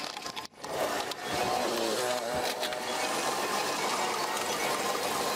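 A small petrol engine on a fertilizer and pesticide sprayer is pull-started with a brief stutter, then runs at a fast, buzzing, steady pace close to the listener.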